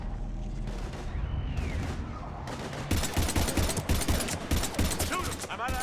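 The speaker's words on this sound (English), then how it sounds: "we're taking heavy fire" Mass Effect 3 firefight, with dense, rapid gunfire and impacts building into a loud sustained barrage after a quieter start, mixed with game effects and voices talking.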